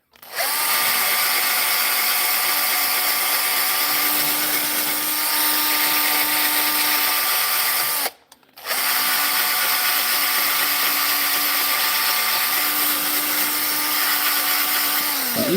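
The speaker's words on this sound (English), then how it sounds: "Just a touch of sanding." A power sander works over a wooden Christmas top, a loud steady whine that runs continuously, cuts out briefly partway through, then resumes at the same pitch.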